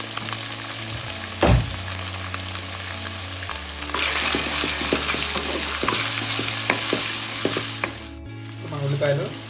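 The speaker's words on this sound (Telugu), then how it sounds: "మనం అల్లం వెల్లుల్లి పేస్ట్ తక్కువ వాసన పోయేంత వరకు దీంట్లో ఫ్రై చేసుకోవాలి." Ginger garlic paste sizzles and fries in a pan, a steady close crackle with occasional stirring scrapes and a louder burst of sizzling partway through.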